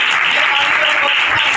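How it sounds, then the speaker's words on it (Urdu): Audience applause fills the space, a dense, steady clatter of many hands clapping loudly and continuously without a break. "تالیاں"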